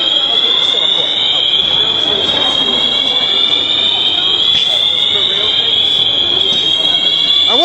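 A shopping mall fire alarm blares with a continuous high electronic tone, loud and unbroken over a wash of crowd murmur and indoor noise, with voices faintly underneath.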